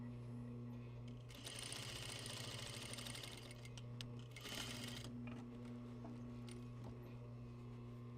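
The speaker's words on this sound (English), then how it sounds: "I'm going to spin it around so that my edges line up here and can continue on sewing" A sewing machine stitches layers of fabric in short bursts against a steady background hum, pausing between runs while the work is turned to line up the edges.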